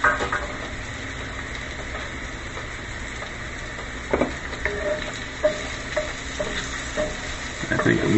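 Mushrooms fry in a pan with a steady soft sizzle, and scraping stirs and utensil knocks come up close in the second half.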